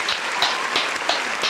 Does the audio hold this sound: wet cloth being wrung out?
no